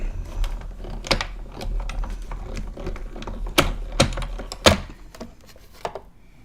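A small manual die-cutting machine working paper gives off a run of sharp clicks and clacks in an uneven rhythm, close and fairly loud.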